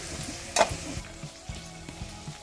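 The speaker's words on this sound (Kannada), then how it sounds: "ಜೀರಿಗೆ, 1 ಮೆಣಸಿನ್ಕಾಯಿ, ಕರಿಬೇವು, ಟೊಮೆಟೊ, ಒಂದು ಅರ್ಧ ನಿಮಿಷ ಫ್ರೈ ಮಾಡ್ಕೊಳ್ಳಿ." Cumin, green chilli, curry leaves and tomato fry in hot oil in a pan, a steady close sizzle with a brief sharp spatter burst early on and a few soft utensil taps, no voices.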